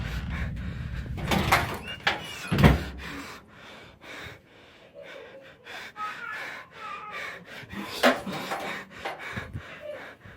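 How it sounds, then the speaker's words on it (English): A door slams shut with a sharp, heavy bang, joined by other loud knocks and rustling, with breathy, gasping sounds between the impacts. "the door behind him slams shut and he can't get out"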